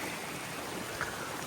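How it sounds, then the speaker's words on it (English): A flowing creek at a trail crossing gives a steady broadband rush of moving water, close and even throughout the short stretch with no voices. "But a little bridge, some creek crossing. It's flowing for sure. It sounds pretty."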